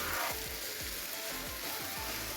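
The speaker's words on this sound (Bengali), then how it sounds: "ঘিয়ের মধ্যে একটু ভেজে নিচ্ছি" Boiled semai vermicelli frying in ghee gives a steady, close sizzle, broken by a quick run of regular scraping stirs in the pan.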